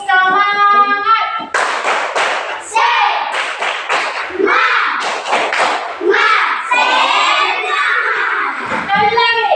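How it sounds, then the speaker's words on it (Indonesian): Schoolchildren stand and perform tepuk semangat, a rhythmic spirit clap, in a classroom group presentation; loud patterned claps and thumps in quick bursts mix with children's chanting voices throughout. "Sebelum lanjut kita tepuk semangat dulu."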